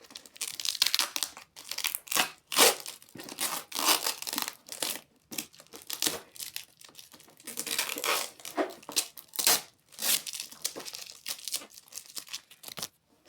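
Repeated ripping and crinkling as packing tape is pulled off a box in short, uneven strips, close and fairly loud with brief pauses.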